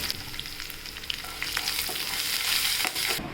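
Curry leaves and turmeric sizzling in hot oil for masala idli, a steady close crackling fry with stirring scrapes that swells slightly toward the end, no voices.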